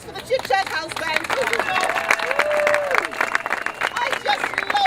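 Audience applause for a house band at a live show, clapping mixed with cheering voices and crowd chatter, rising and falling over a few seconds.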